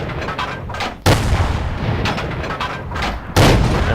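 Rapid cannon fire from an AT2 tank destroyer in World of Tanks, a loud booming shot at the start and another near the end with dense rumbling battle noise continuing between them, no talking.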